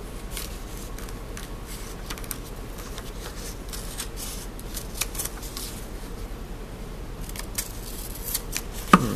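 Scissors snip through paper to cut out a paper helicopter, giving a steady run of close, crisp cutting and rustling sounds over about nine seconds.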